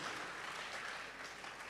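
Audience applause at a symposium marking a research centre's 25th anniversary in Ghana, a steady, dense wash of clapping from a crowd that holds evenly throughout, fairly quiet and with no talk over it.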